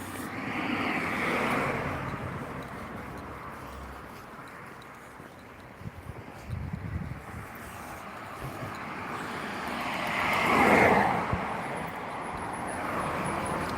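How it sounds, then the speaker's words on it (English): Road traffic passing on a Sunday, with vehicles swelling and fading one after another at a moderate distance, a rumbling pass near the start and a louder, whining vehicle building to a peak toward the end. "Quite a bit of traffic."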